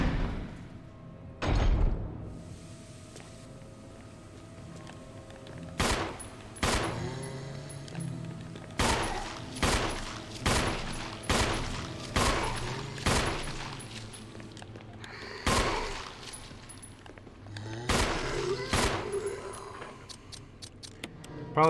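Gunshots in the video game Resident Evil HD Remake: sharp, loud blasts fired singly at first, then in a fast uneven run, with heavy thuds and brief pauses between shots.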